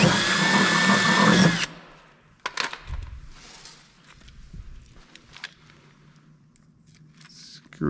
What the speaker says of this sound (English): So these ones are M6 size, and you just use a 23/64 drill bit.